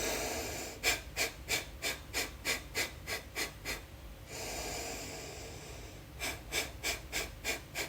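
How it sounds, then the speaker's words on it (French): A person doing yoga exhales through the diaphragm in rapid forceful nasal bursts, two runs of about ten evenly spaced snorting puffs separated by a slow deep inhale, close and alone. "lorsque tu expireras par à-coups, tu expireras par le diaphragme"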